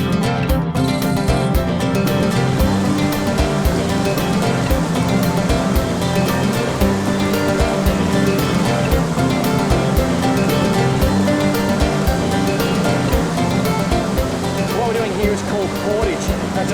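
Snowy River rapids tumbling over low-water boulders, a loud, constant rushing wash heard up close, with faint voices breaking through now and then.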